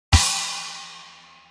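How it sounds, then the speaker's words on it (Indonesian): A kick drum and splash cymbal struck together once on a real drum kit, a single close, loud hit with a low thump and a bright cymbal wash that rings and slowly decays. "Kemudian ketuk secara bersamaan kick dan splash."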